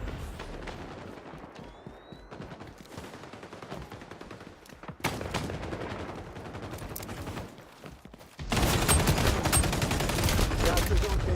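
Gunfire in the XDefiant video game, including shotgun blasts, cracks out in rapid sharp bursts and volleys, growing louder and denser toward the end.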